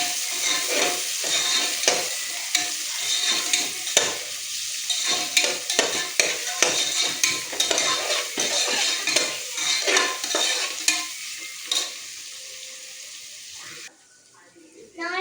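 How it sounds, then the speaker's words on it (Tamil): Green chillies sautéed in a pan crackle under frequent close spatula scrapes and stirring clatter, a loud sizzle with uneven strokes that drops away briefly at the very end. "நல்லா வதக்கிக்கணும்"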